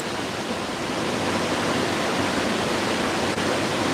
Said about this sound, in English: I kind of like the sound of the roaring creek,